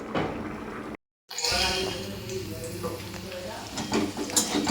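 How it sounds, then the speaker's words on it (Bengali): Bitter gourd fries in a pan with a steady crackling sizzle and stirring scrapes. A brief gap in the sound breaks it, and a voice talks over the frying after the gap. "এখানে উচ্ছে ভেজে নিচ্ছি"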